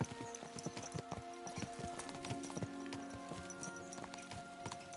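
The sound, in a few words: horses galloping in Kingdom Come Deliverance 2 video game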